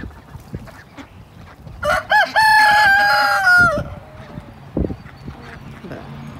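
A rooster crows loudly for about two seconds in a pen where chickens are kept together with ducks. Quieter bird sounds and talking come before and after the crow.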